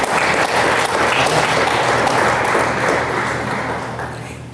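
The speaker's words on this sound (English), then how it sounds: "Will you give that team a round of applause as well?" An audience at a school board honors and recognitions ceremony applauds a student team with dense, steady clapping that holds for several seconds, then slowly tapers.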